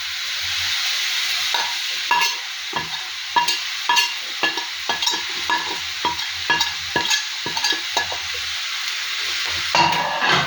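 Onions sauté in oil in a pan for a Kerala prawn roast, with a steady sizzle broken by repeated scraping stirs of a spoon, some in quick bursts, close up and without speech.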